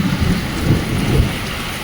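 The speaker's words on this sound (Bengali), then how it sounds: "বিরাট বৃষ্টি পুরো হচ্ছে" Heavy rain pours down steadily in a thunderstorm, with low rumbling thunder rolling underneath the loud, close downpour.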